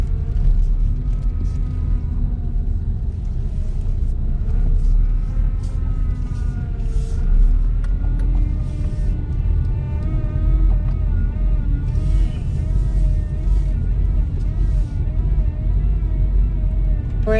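Manual transmission car rolling slowly over a speed bump, a loud steady engine rumble with shifting whine tones as the clutch and a little gas ease it over, no talking.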